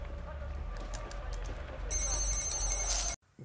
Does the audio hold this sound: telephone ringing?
yes